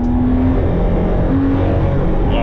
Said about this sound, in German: Ach, das Runterschalten ist so schön aggressiv.